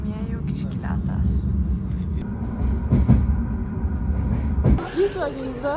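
Passenger train between Bucharest and Brașov in Romania, a steady low rumble of rolling wheels heard from inside the carriage, with a brief metallic screech and rattle near the end, under people talking.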